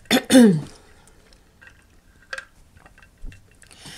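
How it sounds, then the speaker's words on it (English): Someone drinks water: a couple of close, wet gulps and swallows at the start, then a quiet room with a few faint clicks and small handling noises. "So I need to get a drink of water."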